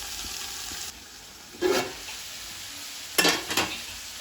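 Food being stirred in a pot on a Telugu home stove, heard as a few short scraping, sizzling bursts over a low steady hiss, with quiet gaps between them.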